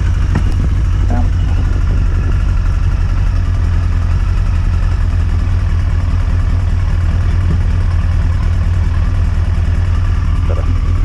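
A Yamaha XJ900S Diversion motorcycle engine idles steadily throughout with a low, continuous throb, close and loud, while its carburettors are being balanced; brief faint voices and clatter sit under the engine.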